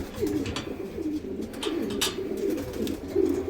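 Racing pigeons coo repeatedly inside a loft, with soft rolling calls close by, overlapping each other with small rustles in between.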